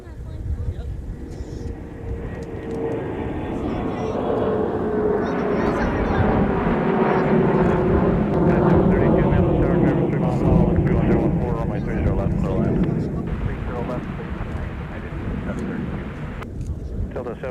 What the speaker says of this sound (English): Got a plane taking off, Pete.